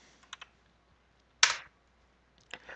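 A few sparse keystrokes on a computer keyboard, faint isolated clicks with one sharper tap in the middle, in a quiet room.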